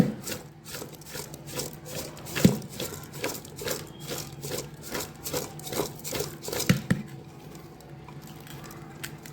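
Green turmeric pickle being mixed by hand with whole salt and turmeric powder makes a rhythmic rubbing and scraping, about two strokes a second, close by and steady.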